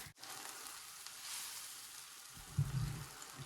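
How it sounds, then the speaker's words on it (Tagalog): Pork adobo bubbling over low heat in a pot, a soft, steady sizzle and fry that swells with a brief louder burst near the end, with no talking. "we will cover and simmer in a very low heat for 1 hour or until mag-tender ang ating pork"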